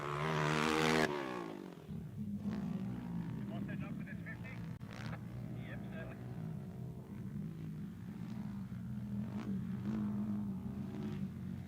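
ATV quad bikes race on a motocross track at a Pro Open national round, engines droning steadily and loud throughout with a brief louder burst at the start, while a commentator talks over the racing.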